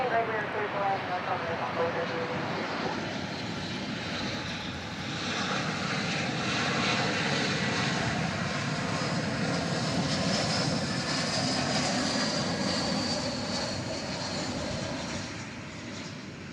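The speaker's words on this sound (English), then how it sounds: "American 2272 coming in from Oklahoma City." American Airlines Airbus A321 arriving at DFW Airport, a loud continuous jet engine roar that swells and holds before easing slightly at the end, with someone talking over it.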